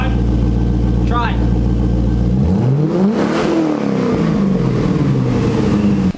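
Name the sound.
car engine revving with new headers and Borla exhaust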